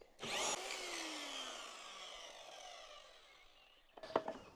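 A power tool cuts wooden boards for the sides of a planter: a sharp, loud burst of cutting, then a steady whine as the motor spins down, ending in a brief rattle. No one speaks.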